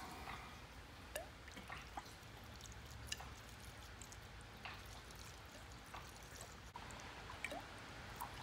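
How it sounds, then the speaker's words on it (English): Motor oil trickles from a jug into a Detroit 60 Series oil filter, a faint, steady liquid pour with a few soft drips and clicks over a low background hum. "We're gonna fill it full out of the jug."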